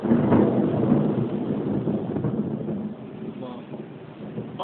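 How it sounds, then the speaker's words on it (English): Thunder from a close storm rolls in a deep, loud rumble that slowly fades, with wind buffeting the microphone and a voice speaking over it. "it's a really close storm though"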